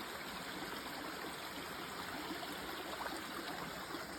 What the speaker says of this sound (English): We have the most beautiful little waterfall here.